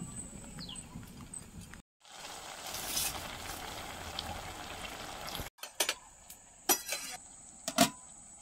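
Half-cut pieces of papaya simmering in water in a wok, a steady low bubbling and sizzle running close by, broken by brief gaps and a few sharp clinks and knocks near the end.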